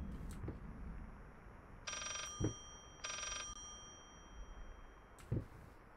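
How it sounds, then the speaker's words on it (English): A telephone hidden behind a bookshelf in the horror game Layers of Fear rings faintly in two short bursts, muffled and distant. Soft thumps and a low ambient rumble surround it. "Why'd you put a phone behind a bookshelf?"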